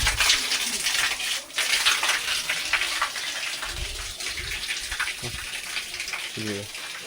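Water splashing and gushing as it is poured over heads at a natural spring by the Antarganga temple in Kolar, Karnataka, a steady outdoor wash of running water with voices talking faintly underneath.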